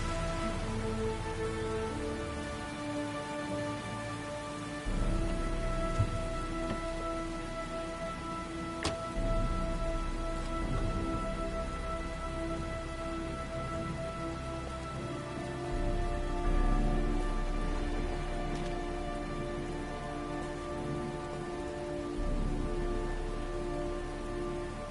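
Steady rainfall pours throughout a scene in the video game Heavy Rain, a dense even hiss of drops on surfaces with a faint low rumble, continuous and close for the whole stretch.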